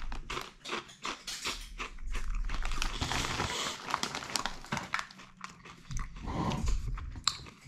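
Truffle potato chips being bitten and chewed, with loud close crunches and crackly mastication coming in uneven bursts alongside some bag crinkling.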